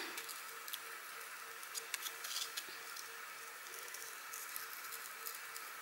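Small scissors make quiet, irregular snips close by while cutting out a drawing for a handmade Easter card, with faint crisp clicks over a soft hiss.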